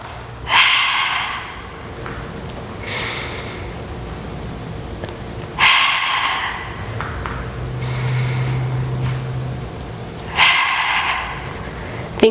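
During a Pilates breathing exercise, a person close by takes forceful, audible exhales and inhales, one breath roughly every two to three seconds, with quieter airflow in between.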